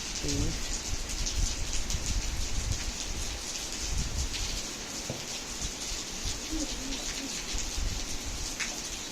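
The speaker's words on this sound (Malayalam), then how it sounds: "രാത്രി മുതലുള്ള മഴയാണ്. ഇപ്പോഴും ഇങ്ങനെ ചാറിക്കൊണ്ടിരിക്കട്ടെ" Steady light overnight rain drizzles, pattering and hissing continuously, an even wet wash of sound with no voices, a few faint bird calls barely audible underneath.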